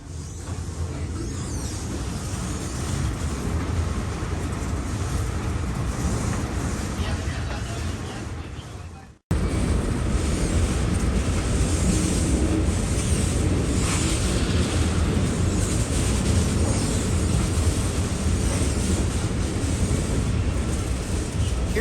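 A scenic river excursion train in Tennessee rumbles along the tracks, heard from the open walkway between coaches as a loud, steady roar of wheels and wind, broken by a brief drop partway through.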